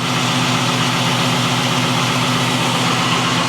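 LS-swapped Chevrolet Monte Carlo SS V8 with a stock cam and mellow exhaust idling, a steady loud rumble that runs unbroken for the whole clip and carries no talk.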